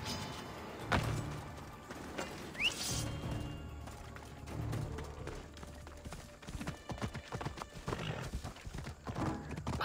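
Horse hooves clip-clop steadily on the ground in the action game Assassin's Creed Odyssey, a close irregular trotting rhythm mixed with soft game ambience and a brief whinny.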